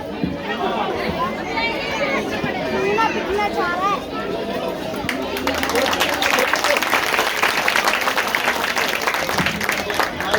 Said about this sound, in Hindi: हमारे राजू भाई के लिए जोरदार तालियां।